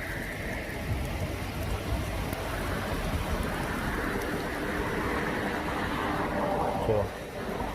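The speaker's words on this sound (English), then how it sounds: "It's like really raining." Heavy rain pours steadily outside around a parked Trans Am, a dense broadband hiss that stays loud throughout, with someone talking over it.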